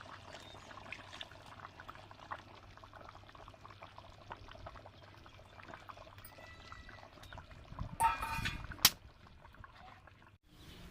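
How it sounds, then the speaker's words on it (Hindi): Cooking oil is poured into a pot while gaye ke paye (cow trotters) cook outdoors in a village. A short, soft pour splashes near the end against a quiet background. "अभी थोड़ा दोस्तों ऑयल डालेंगे इसके अंदर"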